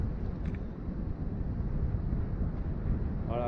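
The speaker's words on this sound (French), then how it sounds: "Voilà, là il y a une rafale, enfin il y a une rafale. On sent bien le vent là, le bruit du vent." Wind buffets the microphone of a GoPro Hero 6 or Hero 7 outdoors, a continuous low, rumbling roar that swells in a strong gust, with a faint voice briefly near the end.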